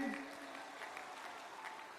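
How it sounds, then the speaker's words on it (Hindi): Crowd at a political rally in Chittorgarh, Rajasthan, applauding as a member of parliament is introduced, a broad steady wash of clapping carrying on at moderate level after a brief voice at the start. "जरा जोर से ताली बजाना"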